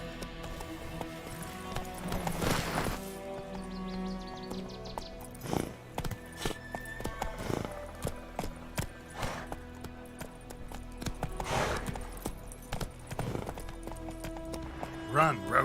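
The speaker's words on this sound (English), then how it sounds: "Run, Roach." Horse hooves clip-clop at a gallop in The Witcher video game, rhythmic thuds rising and falling with occasional whinnies, heard among a man's spoken lines and other game sounds.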